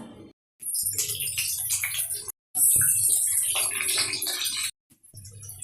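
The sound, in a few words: boiled potatoes frying in hot oil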